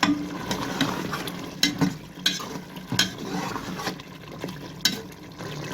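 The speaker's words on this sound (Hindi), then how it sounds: "मैंने मिक्स कर दिया टमाटर इसमें" Long-cut tomatoes are stirred into mutton biryani masala in a pot, with a soft sizzle under repeated spoon scrapes and clinks against the pot at an uneven pace.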